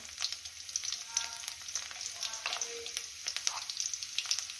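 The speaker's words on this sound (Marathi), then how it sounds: "तेल गरम झालं की लसूण टाकून घेऊया ठेचलेला।" Crushed garlic sizzles and crackles steadily in hot oil in a pan, a close, even frying hiss with scattered pops and no talk over it.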